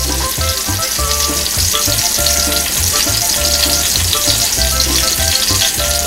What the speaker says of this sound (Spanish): El ajo ya está dorando ahí, que siga dorando un rato.